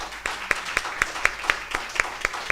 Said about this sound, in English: I'd like to just maybe ask for another round of applause